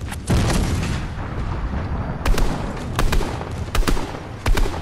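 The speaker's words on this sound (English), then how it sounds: "That guy shooting from way up there." Gunfire in the video game Fortnite: a rumbling battle backdrop punctuated by several sharp, separate shots at irregular intervals, loud and close.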